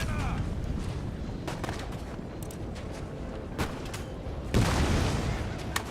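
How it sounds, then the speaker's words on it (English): Artillery and scattered gunfire in a Napoleonic-era battle in Empire: Total War, heard as faint distant booms and sharp cracks over a steady battle rumble, with a louder blast near the end. "That's a good artillery shot there, brother."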